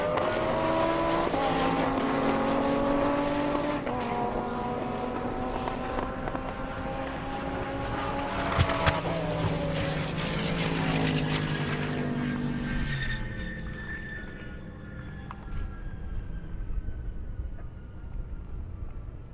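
Camaro and Lamborghini drag racing on an airport strip in a half-mile race, engines roaring hard with rising gear-change pitches, a loud pass sweeping by midway and then fading into the distance.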